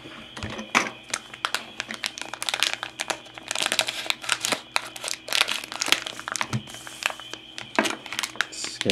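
Scissors cut through the crinkly plastic wrapper of a Fairfield Black Label trading card pack holding 1980s baseball cards, giving close, dense crackling and snipping that runs steadily throughout.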